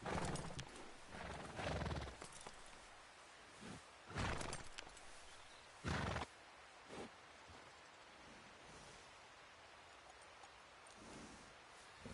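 Horse hooves clip-clopping with an occasional whinny in a PS4 video game, several loud bursts of clatter separated by quieter stretches with a soft rain-like hiss underneath.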